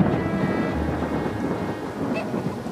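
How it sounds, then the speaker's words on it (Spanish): Steady heavy rain pours down with a low rumble of thunder rolling underneath, close and continuous with no voices. "Ahorita en esta lluvia nomás hay bastante agua."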